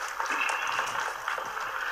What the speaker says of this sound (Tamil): அவங்களுக்கு எல்லாமே நல்லா கரகோஷம் கொடுங்க